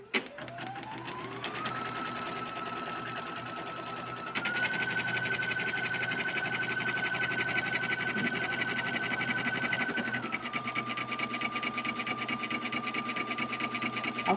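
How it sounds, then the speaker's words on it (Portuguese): An embroidery machine stitching on terry towel pile runs loud and steady with a fast mechanical needle clatter, its motor whine rising at the start and shifting pitch partway through, alone and close. "Sempre bom conferir a enfiação da máquina e dar início ao bordado."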